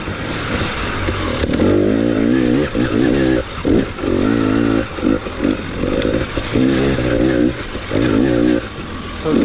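A 2018 KTM 250 XC-W TPI two-stroke dirt bike being ridden, its engine loud and close throughout, revving up and down with repeated throttle blips and gear changes, no talking.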